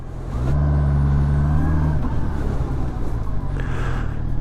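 A Honda CBR650R sport bike with E-Clutch revs as throttle is added and it pulls away, a loud close engine note that rises, then settles into a steady roar.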